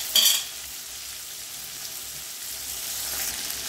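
Chicken fries in hot oil over a medium flame, with curry leaves scattered above and below it. A steady close sizzle runs throughout, opening with a brief louder burst of spitting oil.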